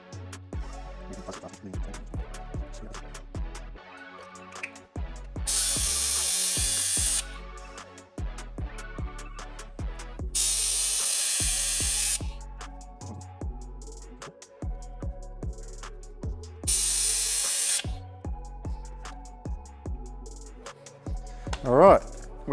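A trigger-operated brake bleeding tool works on a car's brake fluid in bursts, with three loud hissing spray pulses of several seconds each separated by quieter mechanical clicks and tool noise.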